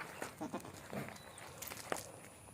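A Malabari goat bleats faintly in a few short bursts, quick calls separated by quiet farmyard background.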